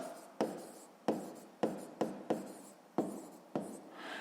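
A pen writing on paper during a 6th-grade math exercise, eight short scratchy strokes at an uneven pace, close and fairly quiet, with no talk.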